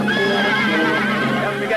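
A horse neighs in a loud, close whinny lasting nearly two seconds, with faint hoof clip-clop beneath, in a Western film scene.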